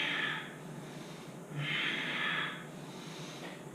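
Slow, audible breaths in and out during yoga push-ups, with long airy exhalations and inhalations alternating in a steady rhythm, close to the mic and without speech.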